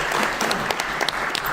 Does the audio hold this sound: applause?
yes